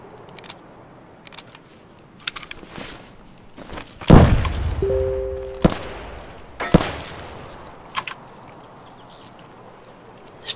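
Video game gunfire from a shotgun and pistol, a few sharp separate shots with quiet gaps between them, alone, with no talking.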